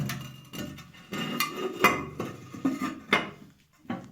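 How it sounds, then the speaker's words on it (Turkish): Ceramic lid of a toilet cistern set back onto the tank during a float valve repair, giving a series of close, hard clinks and scrapes of ceramic on ceramic spread over a few seconds. "Şimdi şu kapağı yerine bir takalım."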